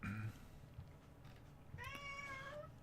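A cat meows once, a clear, rising and falling cry near the end, preceded by a brief higher sound at the start, heard over quiet background murmur.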